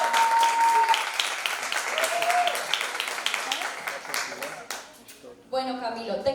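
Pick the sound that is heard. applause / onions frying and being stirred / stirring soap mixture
applause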